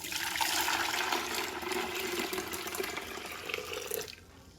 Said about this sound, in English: So now we're ready to pour the tea into our pitcher.